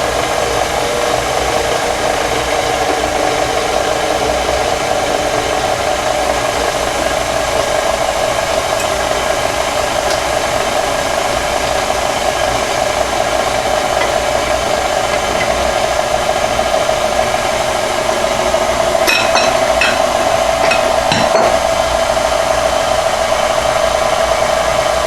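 An electric mixer runs on its lowest stir setting through lemon zucchini bread batter, a steady close motor whir with a faint rattle, with a few light clicks near the end.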